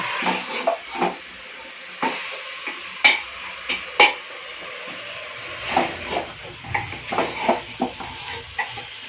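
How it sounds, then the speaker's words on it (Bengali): Meat is stirred in a pressure cooker pot, giving irregular metallic scrapes and clanks of a utensil against the pot. A soft hiss sits underneath, and a few sharper knocks stand out. "মাংসটাকে নেড়ে দিই এক হাতে তো হবে না কুকারটাকে না ধরলে"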